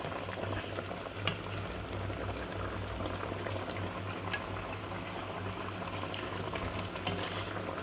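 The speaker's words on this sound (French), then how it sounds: "J'ai augmenté le feu et maintenant je vais faire réduire ma sauce de moitié" Veal stew sauce boils hard in a pot over high heat, a steady close bubbling and sizzling hiss with scattered small pops, with no talking.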